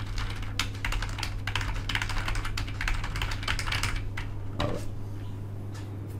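Rapid, steady typing on a computer keyboard while writing paragraphs in an MS Word document, dense close key clicks with a few louder strikes, no speech.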